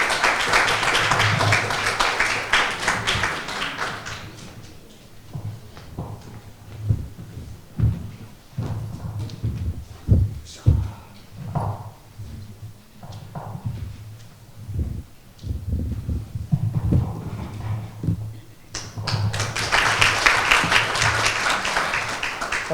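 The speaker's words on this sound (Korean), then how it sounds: "박수로 맞이해 주시기를 부탁드립니다." An audience applauds to welcome a former lawmaker at an opening ceremony and thanksgiving service for a school in the USA. Full clapping fills the opening seconds, thins to scattered claps and knocks, then swells again into a loud round at the end.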